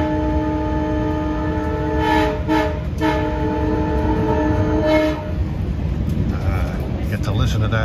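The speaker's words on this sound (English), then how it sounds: "Get to listen to that horn. Kind of has an interesting way of blowing it." A Long Island Rail Road train horn sounds several steady blasts with short breaks, close and loud over the constant rumble and clatter of a moving train.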